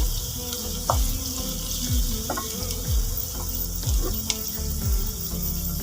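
Onions sauté in a pan while a beef stew is being made, giving a steady soft sizzle with a rhythmic scrape of stirring about once a second.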